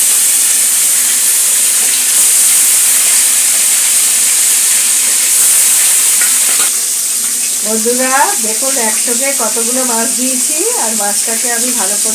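Large amudi fish frying in hot white oil, a loud steady sizzle and hiss throughout, with a voice speaking over the frying in the latter half.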